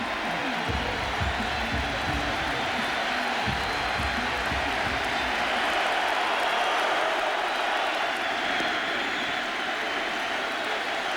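A baseball crowd at a 2001 American League Championship Series game between the Mariners and Yankees roars continuously for a curtain call, a dense, loud wash of cheering and applause that holds steady without letup.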